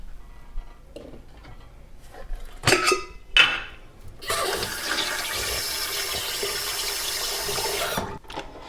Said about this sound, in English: Let's boil the water.